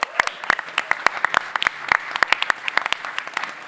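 Scattered, sharp hand claps from a small audience at an Estonian startup ecosystem fireside chat, irregular individual claps rather than a dense roar, fairly close and distinct.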